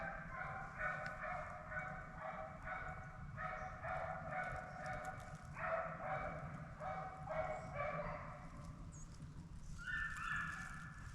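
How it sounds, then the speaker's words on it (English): Several dogs bark repeatedly in the distance, a faint, steady chorus of yaps carried over open ground. "Sounds like dogs."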